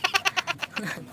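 A cat meows in a quick series of about six or seven short, evenly spaced calls, close and fairly loud, fading into faint background sound at the end.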